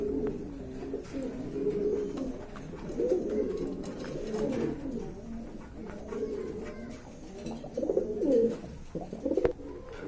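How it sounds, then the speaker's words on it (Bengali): Racing pigeons coo repeatedly in soft, rolling calls, several birds close by at a pigeon market, with faint background noise and no speech. "এটা রেসার কবুতর ভাইয়া, মাক্সি রেসার কবুতর"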